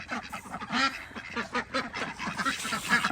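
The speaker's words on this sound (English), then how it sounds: "I'll give you an update on these ducks. There you go. They're so noisy." A flock of ducks on a homestead farm quacks in rapid, overlapping bursts, a noisy chorus close by with no one speaking.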